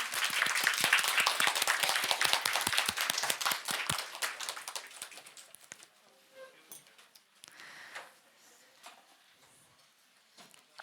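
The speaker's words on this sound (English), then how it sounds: "Round of applause for you." Audience applause at an annual meeting, dense clapping filling the first five seconds before thinning to a few scattered claps and quiet room noise.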